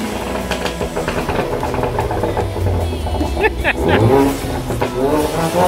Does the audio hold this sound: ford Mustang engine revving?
yes